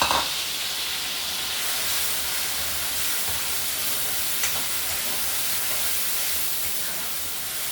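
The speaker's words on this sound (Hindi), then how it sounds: "घी हो गया गरम, इसमें डालूंगी प्याज और हरी मिर्च जिसको मैंने चॉप किया है" Chopped onions and green chillies hit hot ghee in a pan, giving a loud, steady, unbroken sizzle and hiss that stays even from start to finish, with no voices.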